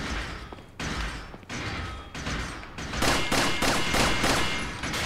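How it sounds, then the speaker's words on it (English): Gunfire in Resident Evil 4 rings out as a string of loud, close shots, dense overlapping blasts with booming thuds that grow heavier and more rapid toward the end. "Oh, I just shoot him a few times."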